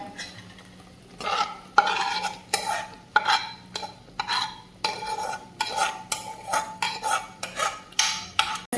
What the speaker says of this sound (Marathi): आता आपण हा शिजवून घेतलेला जो पालक आहे तो त्यामध्ये टाकून घेऊया